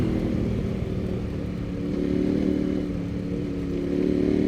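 A KTM 1090 Adventure R motorcycle engine running steadily while riding on a country road, a loud, constant low rumble with slight swells in throttle and no talk.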